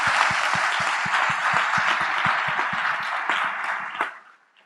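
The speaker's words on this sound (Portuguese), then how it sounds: "Uma salva de palmas para todos vocês por estarem aqui." Large audience applauding at a political forum in Brazil, dense broadband clapping with some sharp rhythmic claps, sustained for about four seconds and then fading out.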